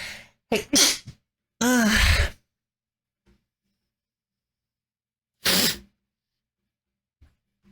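One sneeze bursts out close to the microphone, followed by a short spoken exclamation and a brief breathy sound, with near silence between them.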